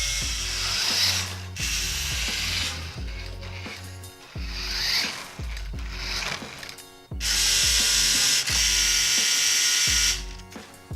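Small plastic gears of a cheaply made toy RC car whir and ratchet in bursts, the motor pitch rising and falling as it speeds up and slows, close and grating with no talking.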